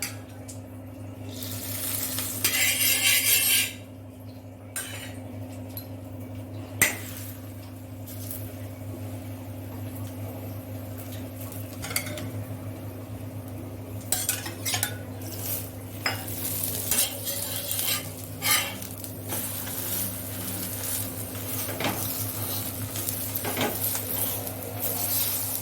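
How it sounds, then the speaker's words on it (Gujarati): A cheese paratha cooking in butter on a hot tawa, with soft sizzling under repeated scraping and clinking of a spatula against the pan, steady and close throughout. "હવે તાવડીમાં તેને અંદર નાખી દઈશું. સૌપ્રથમ પહેલાં બટર એડ કરી"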